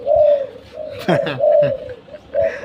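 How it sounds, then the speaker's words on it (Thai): Tame pet doves cooing at close range: a few soft, repeated low coos in a rhythmic pattern, with brief rustling or handling noise in between. "นี่นะยิ่งจับยิ่งขันนะจับตัวไหนก็ยิ่งขันนะครับ"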